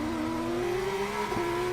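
Formula 2 race car engine at the 2024 Chicago street Grand Prix, a loud, sustained high-pitched whine with a brief gear shift dip and continuous engine noise throughout.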